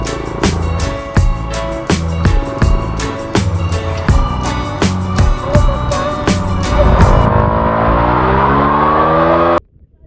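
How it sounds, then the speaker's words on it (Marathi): An off-road vehicle revs hard through rain-soaked mud and water, its engine loud and close with a rhythmic throbbing surge that climbs into a sustained high whine before cutting off abruptly. "हे बघा पाऊस पाणी पाणी चिखल आहे पूर्ण तरी पण आम्ही ऑफरोड करत आहे."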